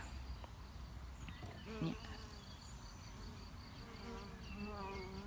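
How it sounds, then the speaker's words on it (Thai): Bees buzz around grass flowers in an open outdoor spot beside large trees, a steady close insect hum with some higher chirping calls over it. "ได้ยินเสียงพึ่งไหม พึ่งก็จะมาหาดอมดมนี่แหละค่ะ ดอกหญ้า"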